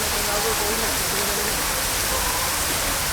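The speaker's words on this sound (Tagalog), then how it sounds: "Aha, inulan pa." Steady rain pours down on a street during a walking tour in La Paz, Iloilo City, a broad continuous hiss that holds evenly throughout with no voices over it.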